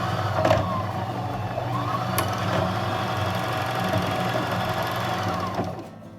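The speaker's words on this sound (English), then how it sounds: "you're gonna want to step on the accelerator to fill up that bobbin." A sewing machine runs steadily while it winds a bobbin, a close, even motor whir lasting several seconds before it stops.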